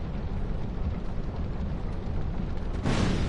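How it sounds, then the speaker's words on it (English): A rumbling explosion in the video game Dark Souls 2 gives a dense low roar that holds steady, then swells louder with a fresh burst near the end, with no speech over it. "Explosion?"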